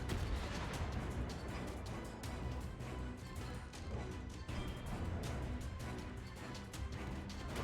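Warship guns firing in the naval battle game World of Warships: repeated heavy booming shots and blasts over a dense, continuous roar of battle noise, loud and steady throughout with no talking.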